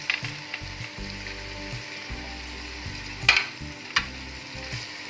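Ginger garlic paste and chillies fry in a pan with softened tomatoes for khichdi, a steady close sizzle with stirring scrapes and a couple of sharper clinks.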